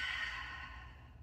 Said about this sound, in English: But breathing in and breathing out.